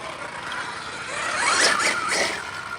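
A blue Losi Super Baja Rey 2.0, a 1/6-scale brushless four-wheel-drive RC desert truck on 8S LiPo, is driven on light throttle. Its motor gives a brief, rising and falling electric whine over soft background noise.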